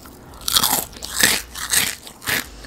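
Crisp crunching from someone chewing a crunchy vegan snack, several distinct close-up bites in an irregular rhythm, with no talk over them.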